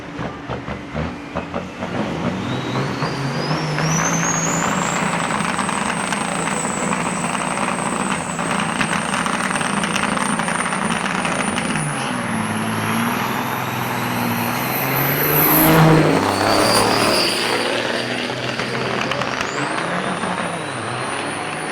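Big rig semi truck racing at Onaway Speedway in the Great Lakes Big Rig Challenge, a loud sustained engine roar that climbs through gears and swells as it passes close, with a high whine riding on top.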